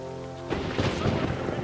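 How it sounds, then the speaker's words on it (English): A thunderstorm rolls in with heavy rain and a deep rumble of thunder in The Witcher 3, a dense wash of noise that swells suddenly after a brief tonal hum. "The storm"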